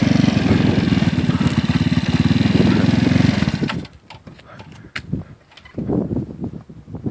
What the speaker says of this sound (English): How'd that old tank motor do?